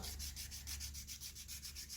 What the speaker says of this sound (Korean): 이제 재단면에 사포질을 할 경우에는 방향을 이쪽 방향으로 밀어주시면 되시고요